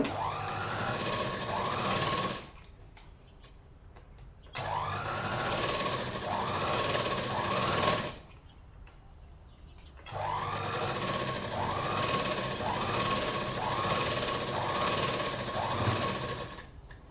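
A sewing machine stitches a chudidhar top in three steady, loud runs of rapid mechanical whirring, split by short quiet pauses. Each run lasts a couple of seconds or longer.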